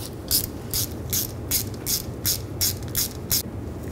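Hand ratchet snugging down a crankshaft position sensor bolt on a 2003-06 Infiniti G35, about ten quick, evenly spaced clicks, close and clear.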